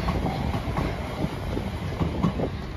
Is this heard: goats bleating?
no